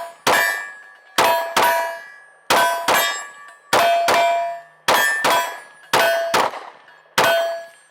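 Magpul pistol magazines dropping onto a hard surface, a series of sharp metallic clangs, some in quick pairs, each ringing and decaying before the next, loud and close.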